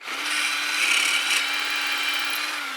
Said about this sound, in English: when you start drilling, it'll grip the resin and it'll want to pull the drill through